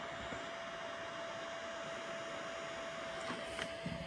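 A heat tool blows a steady, even stream of hot air while warming a nail wrap during application, with a faint constant whine running through the whole stretch and a few soft handling noises near the end.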